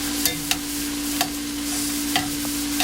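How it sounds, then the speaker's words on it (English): Ground turkey and Italian sausage frying in a pot for black bean chili, a steady soft sizzle with a few sharp stirring clicks and scrapes scattered through, close and without talk. "ground turkey and Italian sausages cooking nicely"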